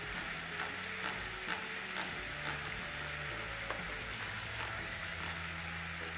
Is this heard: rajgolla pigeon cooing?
no